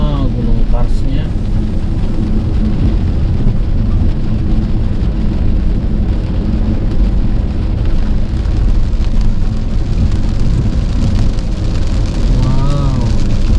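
Steady rain drums on an electric car driving an alternative road from Banjarbaru to Batulicin past karst mountains, a loud, dense wash with road rumble beneath, and a voice briefly rises near the end.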